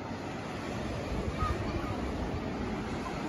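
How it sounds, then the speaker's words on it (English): Wind rushes across the microphone over a broad, steady roar of Gulf of Mexico surf at a beach, loud and continuous with no distinct breaks. "It might be a little windy. Might get a little loud"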